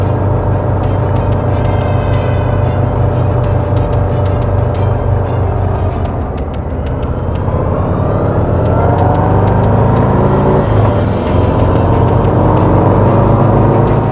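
A 2025 Harley-Davidson Low Rider ST cruiser with a Milwaukee-Eight V-twin hums steadily on the road, its low engine drone loud and continuous with a slight rise in revs near the end, no voices over it.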